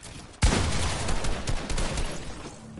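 Rapid gunfire from a video game shooter erupts abruptly and stays loud, a dense burst of shots rattling on without pause and no voices over it.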